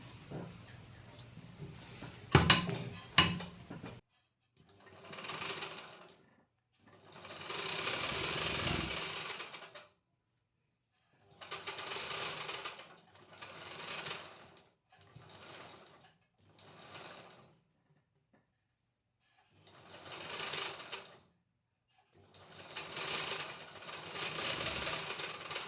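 A sewing machine stitches a strip onto a puffed sleeve in bursts of close, steady whirring, several runs separated by short pauses.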